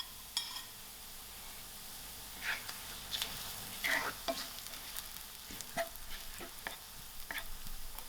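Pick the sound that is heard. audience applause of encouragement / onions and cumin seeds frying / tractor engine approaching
onions and cumin seeds frying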